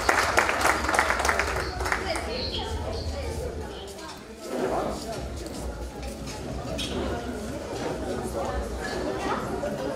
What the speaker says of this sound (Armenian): Եկեք բարձր ծափարենք մեր գեղեցիկ զույգին